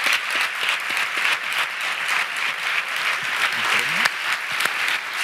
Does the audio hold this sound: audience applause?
yes